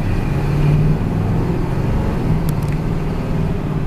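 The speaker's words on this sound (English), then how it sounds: "This is just the smoothest running driving truck." A 1966 Ford F100 restomod truck drives along a cul-de-sac, its engine giving a loud, steady low rumble with road noise throughout, heard close and without talk.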